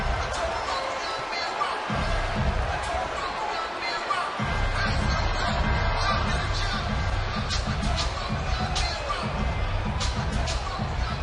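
A large crowd roars and cheers at the Mayweather vs. Pacquiao boxing weigh-in, a loud continuous wall of noise with a commentator talking over it.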